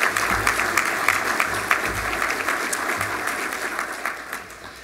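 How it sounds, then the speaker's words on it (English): Audience at an awards ceremony applauding steadily throughout, a dense, sustained wash of clapping from a large crowd in an indoor hall, with faint low hum underneath. "Why don't you give you all yourselves a round of applause"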